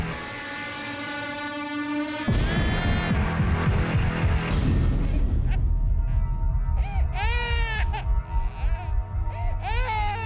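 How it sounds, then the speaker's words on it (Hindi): An infant cries in rising and falling wails over a loud, continuous train rumble, with a horn-like tone sounding early on. "बच्चा बहुत रो रहा है।"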